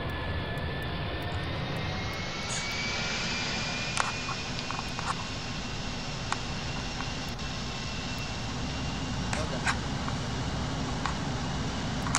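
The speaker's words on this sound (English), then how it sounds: "Cleared for takeoff, runway 5," Airliner engines spool up for a runway takeoff in the GeoFS flight simulator, a steady loud broadband roar with a rising whine, continuous throughout with faint clicks over it.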